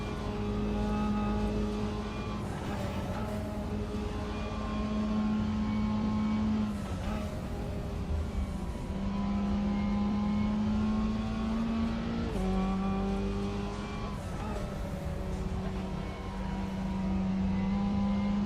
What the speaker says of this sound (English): Next car I'm taking for a ride is the Porsche 944.